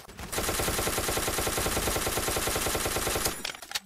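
Rapid, continuous machine gun fire from a Roblox Ace of Spadez game bursts in loud and dense, a sustained rattling stream of shots lasting about three seconds before cutting off.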